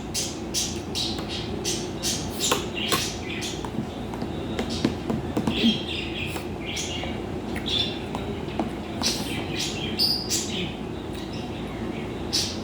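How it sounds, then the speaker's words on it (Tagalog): A pet bird chirps and squawks repeatedly in quick, sharp bursts, fairly close, over a steady low rumble of background noise. "Maingay yung ibon."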